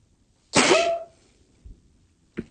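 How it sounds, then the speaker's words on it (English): A single sharp, loud sneeze close to the microphone, followed by a faint sniff and a brief small noise in a quiet room. "I have to sneeze, hang on."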